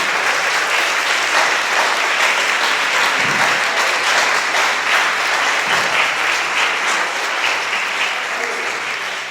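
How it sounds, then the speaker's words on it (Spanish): Church congregation applauding together in steady, dense clapping that fills the whole stretch at a loud, even level, with no talk over it. "Aplaudamos al Señor en este nombre, en este momento."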